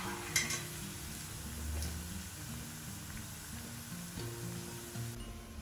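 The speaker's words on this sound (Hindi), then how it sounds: "अपने बाकी के पकोड़े भी हम इसी तरीके से फ्राई कर लेंगे" Spinach and onion pakoras deep fry in hot oil with a continuous, even bubbling hiss. Low tonal music plays faintly underneath, and a light knock comes near the start.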